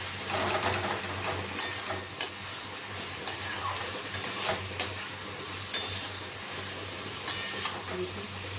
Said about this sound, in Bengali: গ্যাসটা বাড়িয়ে আমি একটুখানি নেড়ে নিলাম।